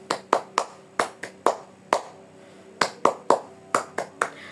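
Sharp group claps in a classroom icebreaker game called tepuk semangat, falling in uneven bursts of two and three with short pauses between, crisp and fairly close with no talking over them.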